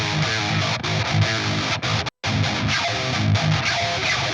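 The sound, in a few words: metal electric guitar through free amp plugins, EQ off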